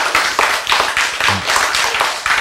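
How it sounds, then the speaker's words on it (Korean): A church congregation claps loudly in unison, rhythmic strong beats repeating at a brisk, steady tempo close by, filling the whole stretch with a dense percussive sound. "박수!"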